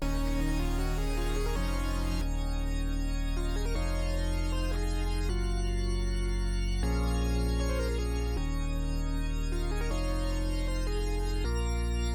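Electronic song mix with the sub bass lowered to about minus 15 decibels: sustained synth chords change every second or two over a steady low end, loud and continuous with no voices.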